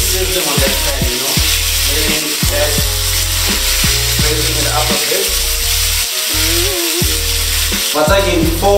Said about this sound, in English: you actually want it to be sizzling on that pan